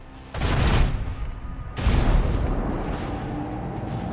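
Heavy gunfire shooting down torpedoes in the Warhammer 40k Rogue Trader video game: two loud, dense bursts of booming, rumbling fire, the second trailing into a long sustained roar.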